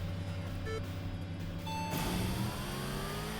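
A car engine in the Import Tuner Challenge racing video game drones with a steady tone, then revs higher and shifts pitch partway through. The game audio is fairly loud and no one speaks.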